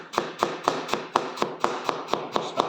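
Knife chopping food on a cutting board while preparing chop suey chow mein, about a dozen evenly spaced sharp taps in a steady rhythm, close and clear with no talking.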